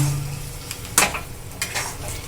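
Capsicum chop filling being mixed with bread crumbs in a bowl, giving a few soft scraping and stirring strokes, close and fairly quiet, with no talk.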